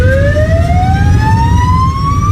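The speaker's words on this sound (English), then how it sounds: "everyone's sort of in the standstill because of this ambulance" An emergency siren wails loudly and close, its rising tone sweeping upward over the steady rumble of stalled traffic on a narrow Norwegian road.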